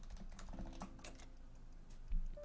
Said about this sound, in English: Keyboard is HHKB.